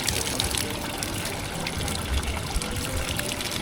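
Water running steadily from a public drinking fountain in Skopje's Old Town bazaar, a continuous broadband splash and trickle heard close up with outdoor ambience and no clear talk.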